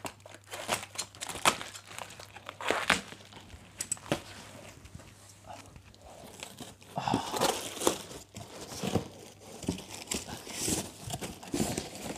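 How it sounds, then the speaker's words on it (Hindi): Close crinkling and tearing of a kite manja thread package's plastic and tape as it is cut open and unwrapped, irregular rustles that grow busier in the second half, with no speech. "यहां से हम इसका टेप वगैरह काट लेंगे"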